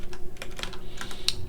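Quick, light keystrokes clatter on a computer keyboard in a steady burst of typing, close and clear over a faint constant hum, with no talking.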